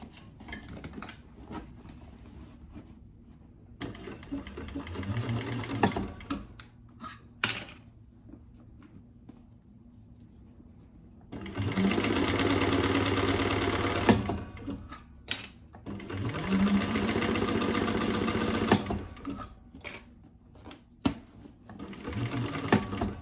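A sewing machine stitches in two long, steady bursts of rapid mechanical whirring, separated by quieter pauses with faint handling clicks and scattered short taps.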